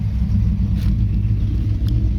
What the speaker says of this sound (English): that MagnaFlow sure does sound good